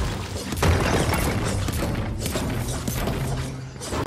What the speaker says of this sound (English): Oh, I destroyed a vending machine.